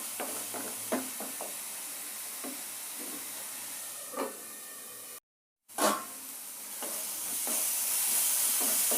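Onion, ginger and garlic paste fries in oil in a pan covered with a plate. A soft, steady hiss is broken by a few faint taps and a brief dropout to silence midway.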